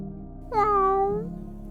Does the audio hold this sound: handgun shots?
no